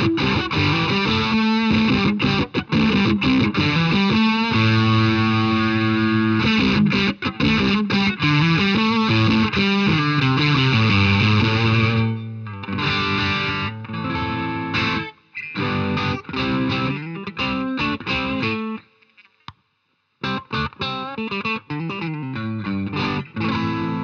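Electric guitar played through a modern fuzz pedal with its treble switch engaged, giving a thick, buzzy, saturated tone; loud sustained chords and riffs run steadily, with a couple of brief pauses near the end.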